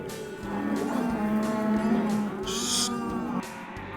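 Cattle moo during a ranch roundup and branding at Stuart Ranch, with several long, overlapping low calls following one another closely, fairly near and clear, plus a brief higher bawl in the middle.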